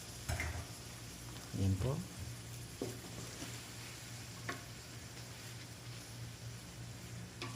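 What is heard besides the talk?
sliced beef frying with onions in a pan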